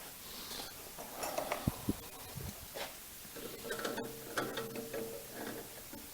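A clamp being tightened on a Lurem C300 woodworking machine, with soft ratcheting clicks, metallic knocks and creaks in short irregular bursts, fairly quiet and close.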